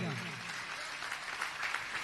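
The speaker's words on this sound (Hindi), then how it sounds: "जोरदार तालियां बजाइएगा।" An audience at a Jain religious gathering applauds loudly, with a continuous, even wash of clapping that holds steady throughout.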